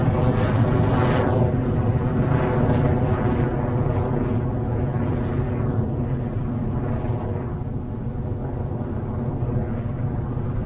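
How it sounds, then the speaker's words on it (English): An Electron rocket with Rutherford engines lifts off, a continuous heavy roar and rumble that holds steady and loud for the whole stretch, with faint voices under it. "As you just saw, we have had successful liftoff of the IB tracking R3D2 downrange."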